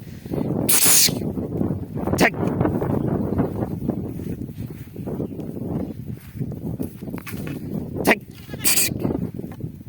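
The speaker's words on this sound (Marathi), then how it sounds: "तर बघा या अशा मेंढ्या चरत आहे" Several sheep bleat in short, scattered calls outdoors over a rumble of wind and footsteps.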